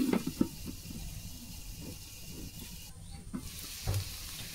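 Onions fry in oil with a soft, faint sizzle and occasional stirring scrapes, quiet and steady without talk.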